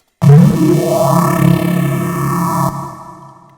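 A single swelling ambient synth effects pad from a Massive preset, with a sweeping, echoing tone, rises and hangs for a few seconds, then fades out through reverb.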